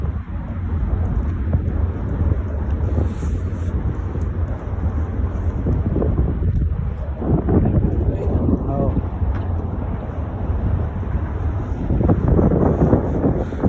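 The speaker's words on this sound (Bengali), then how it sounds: "অনেক ঠান্ডা আবহাওয়া, ঠান্ডা বাতাস।" Cold wind gusts past the microphone beside a river in a large park, loud rumbling buffeting that continues throughout with little letup.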